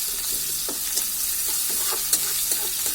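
Garlic and onion sizzle steadily in hot oil while shutki is being cooked, a continuous crackling fry broken now and then by soft stirring clicks, close and clear with no voices.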